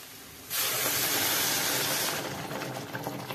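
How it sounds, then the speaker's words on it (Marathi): Hot water poured into a hot pan of soybean pulao, setting off a loud, sustained steaming hiss and sizzle that starts abruptly and holds steady for a few seconds before easing slightly, close and without talk. "आणि नंतर याच्यामध्ये गरम पाणी टाकून घेऊ."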